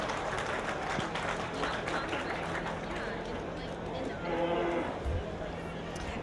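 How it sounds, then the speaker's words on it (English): Audience at a beef cattle show claps for three heifer exhibitors, steady applause rolling through the arena for several seconds amid crowd murmur. "Give them 3 exhibitors a round of applause for exhibiting them."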